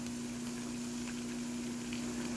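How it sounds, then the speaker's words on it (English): Pork belly bites crackle and sizzle inside an air fryer, a steady close frying hiss over the appliance's constant fan hum. "Ooh, nice sizzle."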